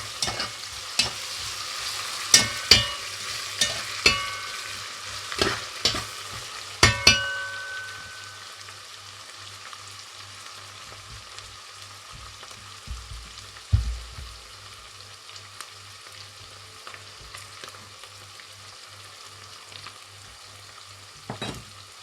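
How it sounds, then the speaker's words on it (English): Vegetables frying for a Jamaican style dish, a steady sizzle in the pan with several sharp clinks from stirring early on, then a continuous hiss. "let it fry for a little while"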